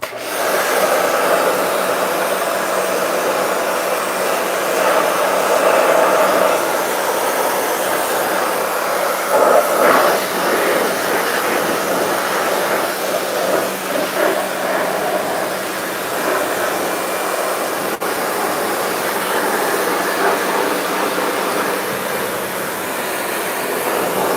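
A pressure washer blasts caked mud off a vehicle in one loud, steady spray that continues without a break, with slight shifts in tone as the jet moves across the surface. Nobody speaks.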